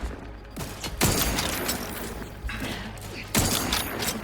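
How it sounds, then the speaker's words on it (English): Sniper rifle shots in The Outer Worlds 2 on a PS5 Pro, with three heavy loud blasts spaced about a second or two apart over a busy, dense game soundscape. "Man, I love this sniper rifle."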